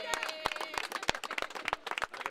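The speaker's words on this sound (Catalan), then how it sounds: "Un aplaudiment!" Audience at a gathering of independence-supporting motorcyclists claps in scattered, sharp bursts over about two seconds, with voices murmuring and calling underneath.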